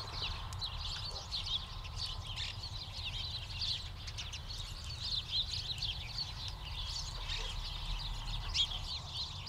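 Small bright green parakeets of a breeding colony call in Chicago's Hyde Park, a continuous chorus of shrill, chattering squawks from several birds at moderate distance over a low city rumble, without talk.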